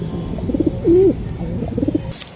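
A racing pigeon gives soft, low cooing calls close by, a few short coos and one longer rolling coo, with faint background noise.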